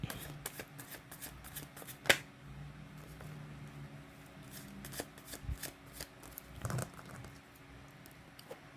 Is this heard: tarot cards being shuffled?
yes